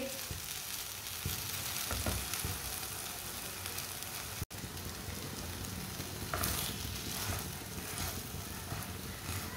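Mooli paratha fries in oil in a pan with a steady, loud, close sizzle that runs throughout, broken by a brief gap and a few soft scrapes.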